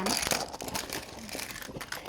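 Colored pencils tumble out of a pencil case in a busy run of clattering, rattling and crinkling, with a voice faintly under the noise.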